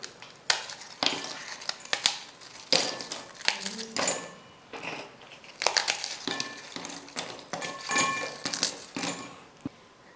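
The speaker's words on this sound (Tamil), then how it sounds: "மிக்ஸி ஜாரில் எடுத்துருக்கிற எல்லா பிஸ்கெட்டையும் நான் வந்து உடச்சி சேர்த்துக்கிறேன்." Marie biscuits being broken by hand into a mixer jar, a series of sharp crisp snaps and crunches in irregular bursts, with light clinks against the jar in between.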